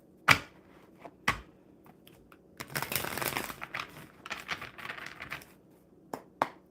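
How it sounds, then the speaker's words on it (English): Tarot cards are shuffled close by: a few sharp snaps, then a dense riffling burst, followed by softer papery flicks and a couple of final taps. "And we'll shuffle these one more time."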